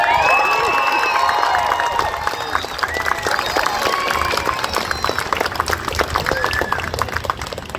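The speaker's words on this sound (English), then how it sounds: "that was an okay round of applause, considering what I'm doing" A street-festival crowd applauds and cheers a busker's act, the clapping dense and loud from the start and running steadily to the end, with whistles and shouts mixed in.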